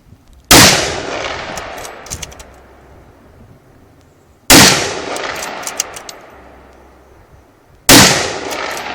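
Three loud, sharp gunshots at a shooting lesson on an outdoor range, each a sudden crack with a decaying echo, spaced a few seconds apart, with no voices.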